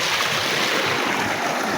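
Irrigation water flows steadily into a rice paddy, a continuous broadband rush with no breaks or voices.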